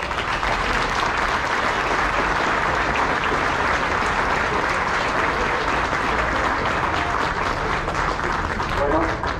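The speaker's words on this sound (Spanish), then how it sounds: "Felicidades, un aplauso a todos." A church congregation applauds at the end of Mass during a school's 75th anniversary celebration, producing loud, sustained clapping that continues evenly for several seconds.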